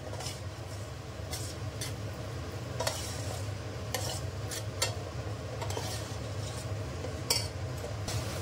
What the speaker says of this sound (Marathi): हे साधारण 5 मिनिटं असं मिक्स करून घ्यायचंय, हलवून घ्यायचंय